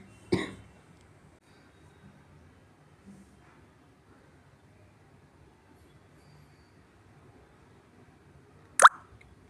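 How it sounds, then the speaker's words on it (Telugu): A person with a cold coughs twice, one sharp cough near the start and another several seconds later, each short and close in an otherwise quiet indoor room. "జలుబు అయ్యి దగ్గు కూడా వస్తుంది."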